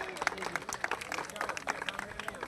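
Stadium crowd at a tournament event in Gulshan-e-Maymar, Karachi, breaking into scattered applause, claps and cheers rising over a noisy outdoor background while voices talk throughout.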